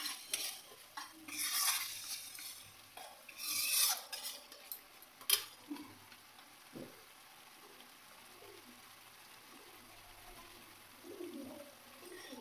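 Turmeric and ordinary chilli powder are stir-fried in oil with a spoon in a home kitchen, giving soft scraping and clinking strokes in uneven bursts over a faint sizzle, with occasional bird calls in the background.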